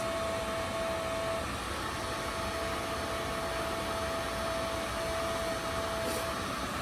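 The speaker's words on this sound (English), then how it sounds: "now we're going to use the heat gun here to dry out the bottom and give the bowl itself a little more body" A heat gun blows steadily while drying the bottom of a handmade leaf bowl, a continuous close airy roar with a thin whine running through it, with no talking.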